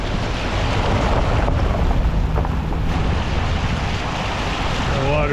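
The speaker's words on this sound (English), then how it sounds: "The water's gonna come rushing down out of there now" Water rushing down a stream on an Adirondack trapline, a loud, continuous roar with some wind buffeting the microphone, steady throughout without talk.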